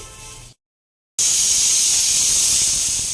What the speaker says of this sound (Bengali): এবার প্রেশারে চারটে মতো সিটি দিলে হয়ে যাবে তো এই যে প্রেশারে বসিয়েও দিয়েছি